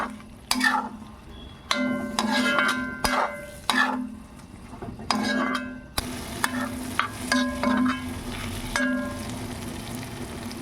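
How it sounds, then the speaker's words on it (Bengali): Soybean chunks stir-fried with roasted ground whole spices, spatula scraping and knocking the pan in repeated bursts about every second or two over a steady background sizzle, close and fairly loud. "এখন এর মধ্যে রোস্টেড গোটা মশলার গুঁড়ো দিয়ে ভালোভাবে নেড়েচেড়ে প্রায় মিনিট 2 মতো সময় ধরে কষিয়ে নেব।"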